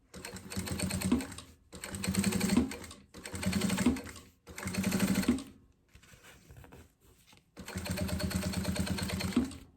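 A sewing machine stitches a pencil case lining in several bursts of rapid whirring, with brief pauses between runs, close and fairly quiet.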